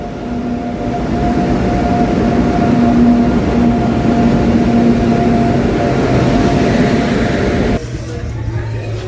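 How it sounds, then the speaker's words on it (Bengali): The Asansol–Haldia Express rumbles steadily into a station at close range, a loud continuous low roar with a sustained tonal hum and whine, ending with a sudden drop in level. "আমাদের ট্রেন ঢুকছে, আসানসোল হলদিয়া এক্সপ্রেস।"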